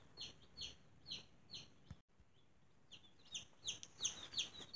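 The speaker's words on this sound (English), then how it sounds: "So let's show you the chicks." Newly arrived baby chicks give faint, high, repeated cheeps, quick and scattered, as they call from a little distance in a quiet room.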